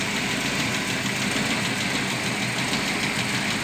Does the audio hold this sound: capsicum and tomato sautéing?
no